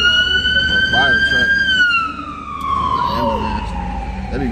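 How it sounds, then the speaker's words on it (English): An emergency vehicle siren, an ambulance or fire truck, wails loudly and close by in steady drawn-out tones that slowly fall in pitch, over traffic rumble and a voice talking beneath it. "This is an ambulance. A fire truck."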